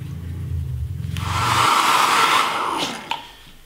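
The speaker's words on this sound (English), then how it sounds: "you can use a blow dryer to speed up the drying process" A handheld blow dryer drying acrylic paint whirs on and blows as a steady, close, loud airy hum, then winds down and clicks off near the end.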